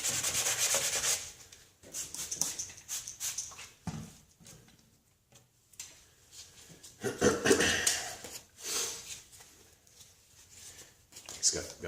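Coarse 100 grit sandpaper rubbed over a cloudy plastic car headlight, close scratchy strokes in irregular bursts with pauses between them, fairly quiet.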